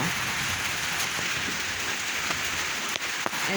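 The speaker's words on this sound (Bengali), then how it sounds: "বাপরে বৃষ্টি আইছে" Steady, heavy rain pattering on a surface, a dense even hiss with a few scattered louder drops and knocks.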